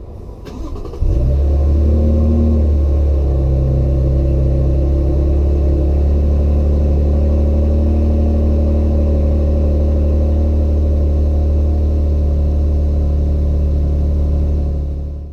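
A 2025 Toyota Tundra SR pickup truck starts up and drives with a steady, loud, low engine hum and road drone, heard from inside the cab with no talk.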